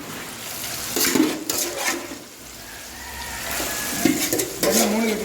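Pieces of fish fry in hot oil with a loud, steady sizzle that swells and bubbles as more fish goes in, with no talking.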